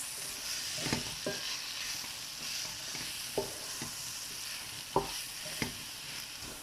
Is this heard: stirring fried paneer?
yes